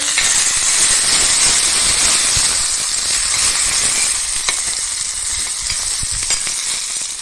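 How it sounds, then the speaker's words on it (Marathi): Ghee with garlic and grated ginger sizzles hard in a pan as a tempering for mixed dal, a loud continuous hiss close by with faint stirring scrapes and no talk. "तूप फोडणीला टाकलेलं आहे लसूण फोडणीला टाकलं आहे"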